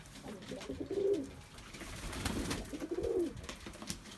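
Flight pigeons at the Edirnekapı bird market in Istanbul coo in two low, throaty rolling phrases, close by, over faint market background noise.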